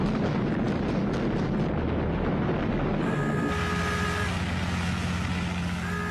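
Bombs from US bombers explode around a Japanese aircraft carrier during World War II, a loud, continuous roar of rumbling blasts and debris with no break.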